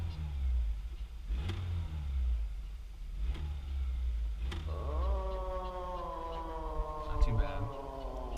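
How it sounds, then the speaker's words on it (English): A manual car's engine idles in neutral, then revs up under throttle, the pitch climbing smoothly in a rising whine after a few knocks, with a low rumble underneath. "Hear the throttle a little bit."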